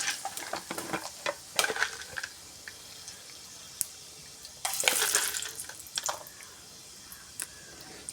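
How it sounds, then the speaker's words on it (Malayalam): Whole cloves, cinnamon, mace and cardamom dropped into hot oil for a vegetable biryani, giving a soft sizzle with intermittent stirring scrapes and clatter, fairly quiet and close. "എണ്ണ ചൂടാവുമ്പോൾ ഗ്രാമ്പൂ, പട്ട, ജാതിപത്രി എല്ലാം ഇട്ട് കൊടുക്കാം."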